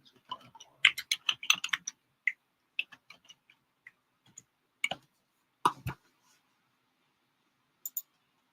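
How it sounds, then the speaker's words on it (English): Quiet keystrokes on a computer keyboard, a quick cluster of clicks followed by sparse, scattered taps and pauses, close and alone with no talking. "Let's type in this."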